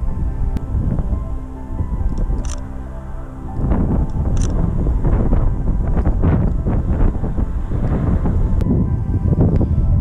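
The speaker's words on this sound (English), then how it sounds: "It's very windy and cold." Strong wind roars and buffets close to the microphone in a loud, continuous rumble that surges and gusts throughout.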